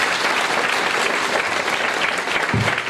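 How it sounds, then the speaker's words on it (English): Audience clapping at an international AI conference inaugural session, a dense, even burst of applause from a large hall filling the whole stretch at steady loudness. "So let's give a big clap to this."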